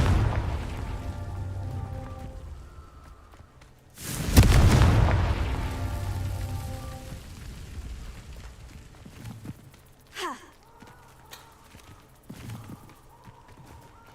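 A Confringo blasting spell in Hogwarts Legacy lands with a single deep, booming explosion that rumbles and decays over a couple of seconds, followed by quieter effects and low ambient hum.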